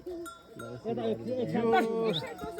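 Pack sheep carrying loads on a mountain trail bleat in wavering, close calls, with a bell ringing faintly and people talking among them.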